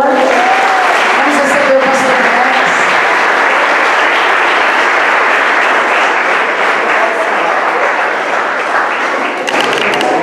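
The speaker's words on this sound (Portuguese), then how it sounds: "Vamos aplaudir ao Senhor." A church congregation at a couples' dinner applauds: dense, sustained clapping from a crowd fills the room from start to finish, with faint voices mixed in.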